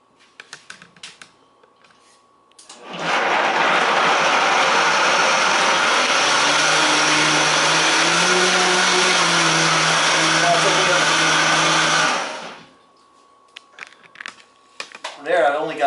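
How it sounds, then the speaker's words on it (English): A Vitamix blender whirs loudly and steadily for about nine seconds while blending a raw creamy curry sauce, its motor pitch wavering slightly as the contents churn, with quiet room sounds before and after. "Probably get it up to like a 6 or a 7 speed out of 10 on this Vitamix."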